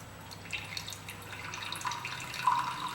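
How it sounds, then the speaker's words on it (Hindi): Fenugreek decoction trickles and drips through a sieve into a glass. The sound is faint and thin, a steady flow of liquid that carries on for a few seconds. "अब इसे हम एक छलनी की मदद से छान लेंगे।"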